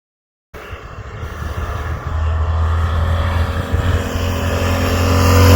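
A 30-year-old 1991 Honda Goldwing GL1500 SE Anniversary Edition motorcycle with 242,000 km starts and idles with a smooth, steady engine drone that builds slightly louder over several seconds.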